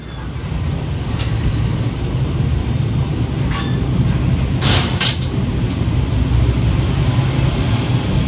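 The Purwojaya executive train pulls away from the station on its way toward Cilacap, with a steady low rumble and rolling noise heard from inside, plus a few brief metallic clinks and squeaks partway through.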